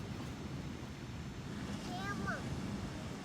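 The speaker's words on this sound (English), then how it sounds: "I can hear these waves crashing behind me" Ocean waves crash on a shore in a steady, close roar of surf, with wind buffeting the microphone throughout and a few brief high chirps partway through.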